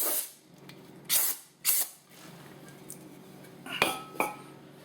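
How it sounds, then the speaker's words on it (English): Brake cleaner aerosol sprays into a brake drum on a Ford Escort ZX2, four short hissing bursts, two close together, then a pause before two more, with faint clinks in between. "Take some brake clean out the brake drum."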